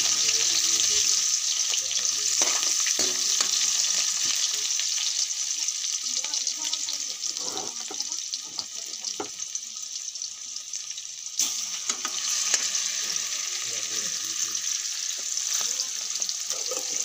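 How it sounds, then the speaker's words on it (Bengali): Marinated meat fries in hot oil in a pan, a steady close hiss and crackle that runs throughout with scattered pops and stirring clinks, no voices. "তেল গরম হওয়ার পরে মাংস দিয়ে ভালোভাবে ভেজে নিচ্ছি।"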